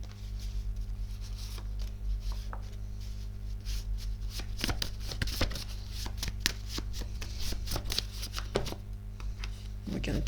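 A deck of cards is shuffled at close range, with rapid riffling bursts and crisp flicks building in intensity over a low steady hum.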